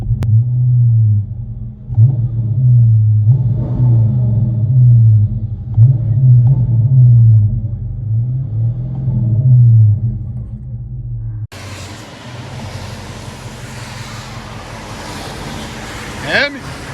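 Heard from inside the cabin, a Dodge Charger 5.7L R/T HEMI exhaust drones low and loud in rhythmic revving swells, then switches abruptly to a brighter, noisier wash for the final seconds.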